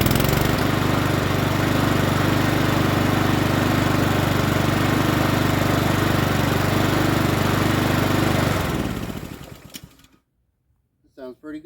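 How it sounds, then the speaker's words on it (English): A Troy-Bilt push mower with a Honda GCV160 engine runs loud and steady up close for about nine seconds, then cuts off and winds down to silence, with a brief voice at the very end. "Let's start it up again."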